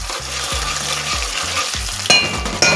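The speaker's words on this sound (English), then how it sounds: "we're cooking our tomato paste" Tomato paste fries in oil for Haitian conch stew, a close, steady sizzle with a low rhythmic scraping as it is stirred and two sharp clinks near the end.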